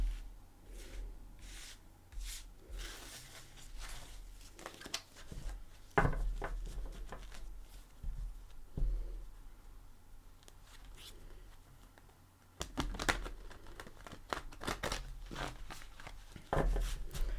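Tarot cards are shuffled close up in repeated bursts of soft flicking and rubbing, with occasional sharper taps and pauses between rounds.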